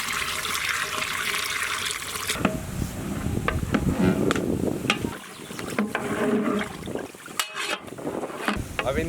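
Water poured into a pot of spiced chicken for haleem, a continuous gushing, splashing pour lasting several seconds, close and moderately loud, with no speech.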